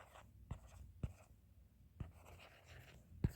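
A pen or chalk writes out a physics formula during a lesson: a few sharp taps and short scratchy strokes, close and fairly quiet, spaced apart with no voice.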